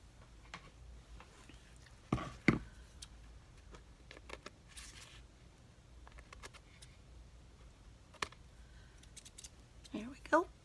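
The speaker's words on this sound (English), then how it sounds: "Let me see what I Need to cut off here." Scissors cut paper for a handmade postcard craft, giving a few crisp, close snips spaced apart in a quiet room, with faint handling sounds between them.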